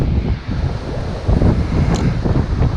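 Strong wind buffeting the microphone on an Outer Banks beach during surf fishing, with a low rumbling roar and faint surf underneath, no talking.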